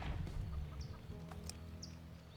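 Chickens cluck in the World Turtles video game, short soft clucks with a couple of higher chirps over a low steady hum, fairly quiet.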